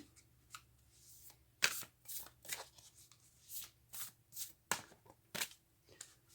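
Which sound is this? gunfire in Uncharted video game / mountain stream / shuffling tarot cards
shuffling tarot cards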